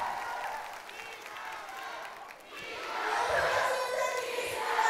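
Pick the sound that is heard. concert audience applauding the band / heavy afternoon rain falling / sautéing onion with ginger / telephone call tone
concert audience applauding the band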